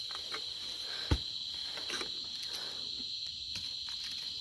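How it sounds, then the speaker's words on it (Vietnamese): Field crickets trill steadily at night in a rural Vietnamese setting, a continuous high-pitched chirping that fills the whole stretch, with a brief thump and faint rustles underneath. "Cái dế là mình thấy rồi, dế là được rồi đó."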